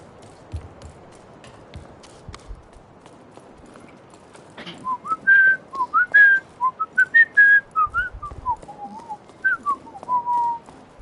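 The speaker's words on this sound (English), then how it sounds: "better not whistle the song too well" A person whistles a melodic tune in short, clear, rising and falling phrases after a few seconds of quiet, close and fairly loud, with faint game sounds in the background.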